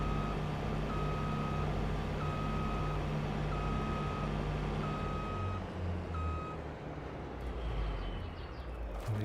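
Steady evenly spaced reversing beeps from a combine harvester inside a shed in Farming Simulator 22, sounding over a loud continuous engine drone, no talking.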